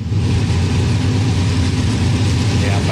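A V8 racing car idles in the pits at the Toninho da Mata circuit, a loud, steady, deep burbling rumble heard close up and continuous throughout.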